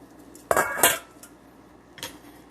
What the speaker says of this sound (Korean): 여기다가 진짜 아까 삶아놓은 파스타면 스파게티를 넣어주세요